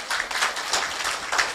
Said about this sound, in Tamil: கரகோஷம் ஒலிக்கட்டும்.